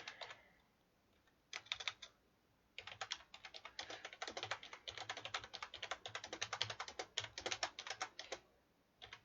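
Fingers type on a computer keyboard in close, quiet bursts of rapid clicking keystrokes, with short pauses between runs and no voice over them.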